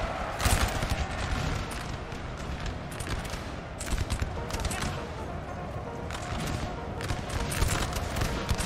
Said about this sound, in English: Definitely some shooting in melee.